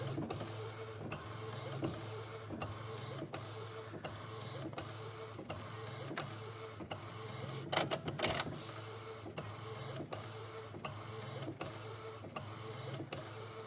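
A DTF printer printing a transfer for a T-shirt dress runs steadily, with regular mechanical pulses of the print head carriage about every half second, a continuous motor hum underneath and a brief louder burst partway through; no one speaks.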